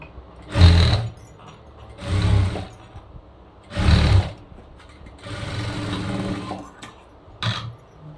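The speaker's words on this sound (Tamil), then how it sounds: "இங்கே வச்சு இப்போ நான் தைக்கிறேன்" A sewing machine stitches a raglan blouse in five separate bursts of whirring, each a second or so long with quieter pauses between, recorded up close.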